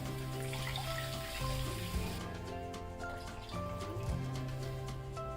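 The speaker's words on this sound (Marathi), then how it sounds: "आता मी याच्यामध्ये पाणी घालते।" Water runs steadily into a pan for patvadi rassa gravy with a continuous splashing, trickling sound, close by, over a low hum from the kitchen.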